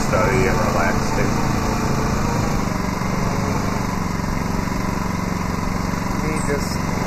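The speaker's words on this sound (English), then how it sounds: "Me just listening to the lawnmower noise." A lawn mower engine drones steadily and loudly close by, holding an even throttle with a rough, buzzing tone throughout.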